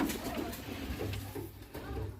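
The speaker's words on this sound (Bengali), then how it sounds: "অনেক সুন্দর একটা বোম্বাই কবুতর দেখুন" Bombay pigeons coo softly in low, rolling calls, repeating a few times at close range against a faint background.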